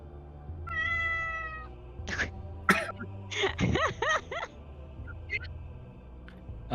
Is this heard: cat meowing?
yes